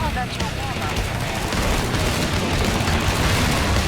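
Weapons fire in Killing Floor 2 keeps up a dense, continuous rattle of shots mixed with game noise, fairly loud and unbroken throughout.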